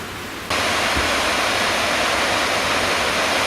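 A creek on the Kaymoor Trail feeds a big waterfall, heard as a loud, steady, dense rush of water that swells suddenly after the first half second and stays constant.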